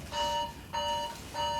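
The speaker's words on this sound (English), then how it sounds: "Oh, that's my phone." A phone alarm rings in three repeated beeping bursts of bright electronic tone with short gaps between them, near and clear, with no talking over it.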